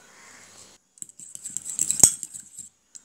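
A fork beats eggs seasoned with salt and pepper in a bowl for a bread omelette: light, rapid clinks and scrapes after a short quiet start, with one sharp knock partway through, close and alone.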